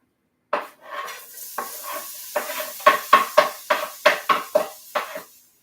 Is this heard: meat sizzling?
yes